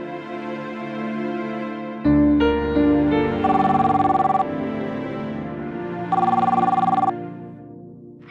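A telephone rings indoors in a household, a loud repeated electronic bell tone in steady bursts, alone and close, with a louder ringing phase between two quieter stretches.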